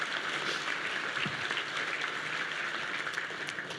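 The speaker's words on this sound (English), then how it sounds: "let's give all of our special guests a big round of applause" Applause from an audience honouring special guests at a civic state-of-the-city event, a steady wash of many hands clapping at moderate distance, fairly quiet, with no talk over it.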